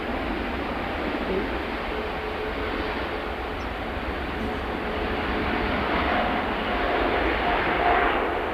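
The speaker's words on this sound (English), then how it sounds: "Lovely, lovely A350." An Airbus A350 airliner at Manchester Airport roars steadily from a distance, a broad, constant engine rumble that swells slightly toward the end, with faint voices in the background.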